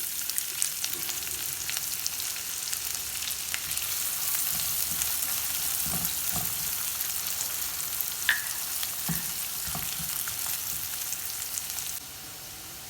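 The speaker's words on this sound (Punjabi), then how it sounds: "ਇਹ ਪਿਆਜ਼ ਪਿਆਜ਼ ਪਾ ਕੇ ਭੁੰਨਾਂਗੇ" Two finely chopped onions fry in a pan over cumin for dhaba-style paneer bhurji, giving a steady, even sizzle broken by occasional soft scrapes and taps of a spatula, then the hiss drops abruptly near the end.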